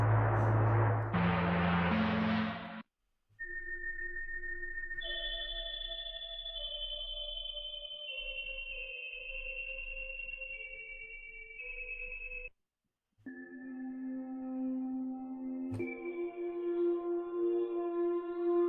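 A sustained electronic synth feedback drone of layered tones shifts pitch in steps using pitch bend, with brief gaps of silence between sections.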